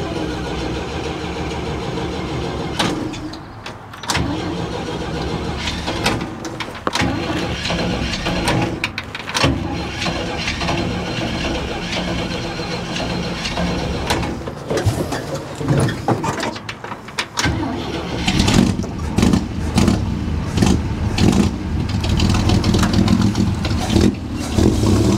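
An old carbureted engine on a one-barrel setup, leaking fuel after its float bowl was knocked, cranks and catches, then runs with a steady loud rumble and some uneven revving for most of the stretch.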